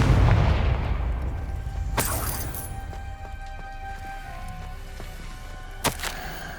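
A Confringo fire spell blasts in Hogwarts Legacy on PS5: a loud booming explosion opens and rumbles away, followed by sharper cracking impacts a couple of seconds later and again near the end.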